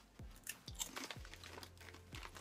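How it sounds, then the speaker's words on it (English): Crunchy nori seaweed crackers being chewed up close, with loud, repeated crunching bites in an irregular rhythm and no talk. "we're gonna try these nori crackers with seaweed"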